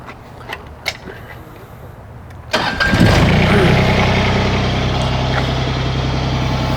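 An LS Tractors MT-122/125 backhoe tractor engine turns over and fires up after a couple of faint clicks, then settles into a loud, steady diesel idle close by.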